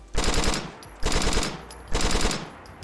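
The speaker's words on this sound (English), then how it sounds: "with one click of the trigger, it will actually fire 4 bullets" A burst rifle in a Fallout 4 mod fires three quick four-round bursts, each a sharp loud rattle of shots followed by a short decaying tail, evenly spaced about a second apart.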